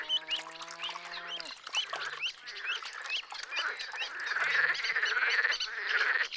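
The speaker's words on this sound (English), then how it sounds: "On warmer days, the edible frogs work themselves into an audible frenzy." Edible frogs call in a noisy frenzy from a Danube wetland in Serbia, a dense, continuous chorus of croaks and quacking calls, with a short honk-like tone at the very start.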